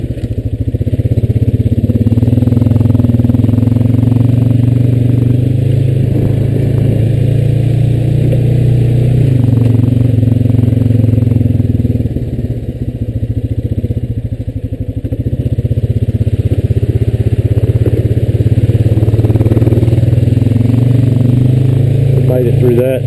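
A Honda Rancher 420AT ATV engine pushes through brush, a loud, steady, close drone that swells and dips as the throttle changes, with clattering from the brush and vegetation throughout.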